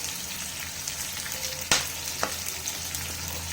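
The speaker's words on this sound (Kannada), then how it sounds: "ಇದು ಸ್ವಲ್ಪ ಗೋಲ್ಡನ್ ಬ್ರೌನ್ ಆಗೋವರೆಗೂ ಹುರ್ಕೋಬೇಕು" Onions frying in a pan for a restaurant-style cashew curry, with cumin seeds just added: a steady, soft sizzle continues throughout, broken by a sharp clack near the middle and a lighter tap shortly after.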